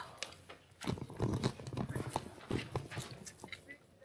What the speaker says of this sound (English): Just wild horses roaming